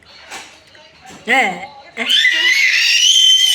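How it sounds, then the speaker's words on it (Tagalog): A person lets out a loud, high, sustained scream that rises out of quieter laughing and chuckling sounds, close and piercing for the final stretch. "Hindi na tawa yan eh. Sigaw na yan eh."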